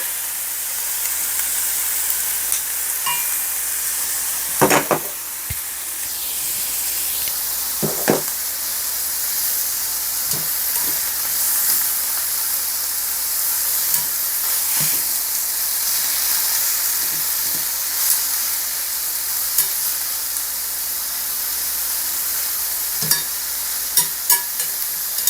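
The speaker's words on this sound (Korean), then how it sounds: "요새 한동안 고기 굽질 않았는데 오랜만에 고기 냄새 맡으니까 좋네요" Meat sizzles on a grill at a riverside spot in Deokpung Valley. A steady, fairly loud frying hiss runs throughout, with scattered sharp pops and crackles and no talk.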